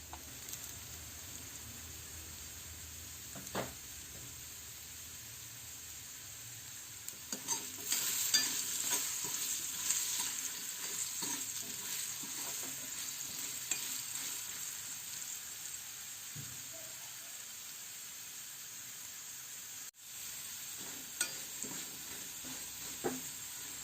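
Potatoes fry in a pan for a soybean curry, a soft steady sizzle that grows louder midway as they are stirred, with occasional scraping clinks.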